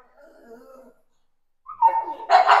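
A dog gives a couple of short, sharp barks or yelps, close by, after a few seconds of faint, muffled sound.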